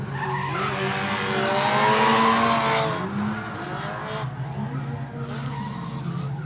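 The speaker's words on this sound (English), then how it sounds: "The nice initiation by Jeff there, coming in hot to this first outer zone, filling all of it, transitioning into OZ2" Drift cars in a street-class qualifying round at an Ultimate Drifting Challenge event in Emmett, Idaho, tires squealing loudly through a drifting course as engines roar, one continuous close skid that eases slightly toward the end.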